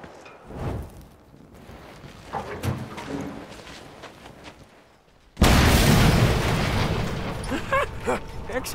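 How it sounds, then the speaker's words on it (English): A sudden loud blast bursts open a gate in the Mad Max video game, an abrupt booming explosion after quieter ambient rumbles, followed by sustained roaring debris and crackling noise. "One blast should split it wide open."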